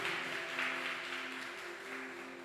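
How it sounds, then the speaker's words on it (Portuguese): Church congregation applauding during a service, a continuous dense clapping that fills the room, with a sustained organ or keyboard tone droning underneath. "Você que crê, levanta um aplauso ao nome dele."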